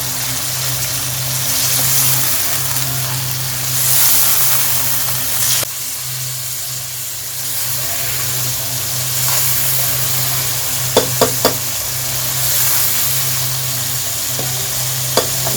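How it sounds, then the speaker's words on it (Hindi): Kaleji (liver) frying in a pan, a steady loud sizzle with a few sharp spatters and stirring scrapes, no one talking. "दो 3 मिनट इसको भूनेंगे ताकि इसकी जो स्मेल है ये ख़त्म हो जाए।"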